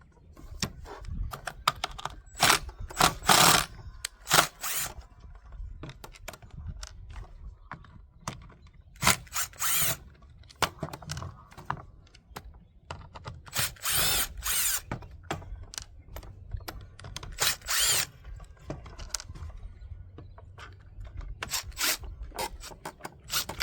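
A power screwdriver backs Torx screws out of a Milwaukee circular saw during a trigger switch repair, in short repeated whirring bursts separated by pauses, close and fairly loud.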